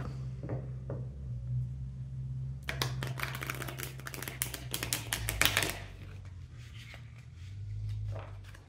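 Tarot cards shuffled by hand, a dense burst of rapid riffling and slapping clicks lasting a few seconds, set against a steady low hum, with quieter card taps before and after.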